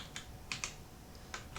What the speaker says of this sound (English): I'm not typing any place worthwhile